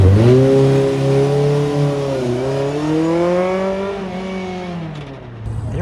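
Special-edition Aston Martin DB11 engine, out among the cars at a New Year's gathering in Japan, holding a strong, steady drone with clear rising and falling pitch swells as it rolls past, close and loud for nearly six seconds.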